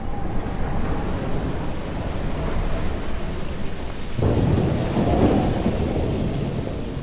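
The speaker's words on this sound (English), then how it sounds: "More storms." A thunderstorm in the game Life Is Strange: steady roaring wind and rain with a heavy rumble of thunder swelling partway through, loud and close, with no voices.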